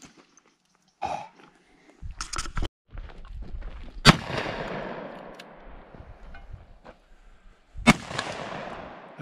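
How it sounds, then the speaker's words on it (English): Several sharp gunshots from a Ruger Blackhawk revolver fired outdoors, spaced a few seconds apart, each loud and close with a ringing, rumbling decay; quieter handling sounds fall between shots. "Now that's good shooting."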